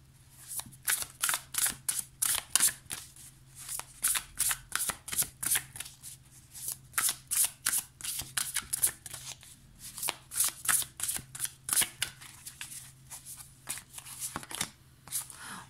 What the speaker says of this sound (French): Donc là, j'ai pris The Beautiful Creature Tarot.